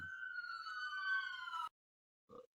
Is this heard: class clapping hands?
no